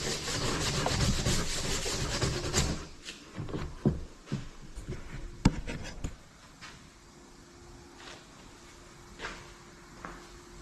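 Hand sanding an old quad body panel: steady close rasping strokes at first, then thinning to scattered scrapes, knocks and brief rubs with quieter gaps.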